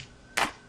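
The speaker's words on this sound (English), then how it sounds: "layering up some claps would be cool" A single punchy layered clap sample in FL Studio for a deep house track, one bright, short, snappy hit standing alone.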